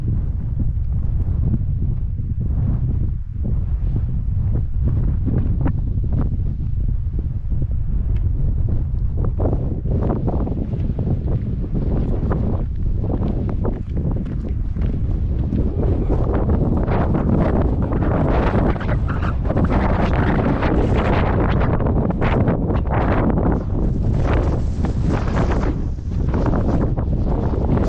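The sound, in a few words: strong wind on microphone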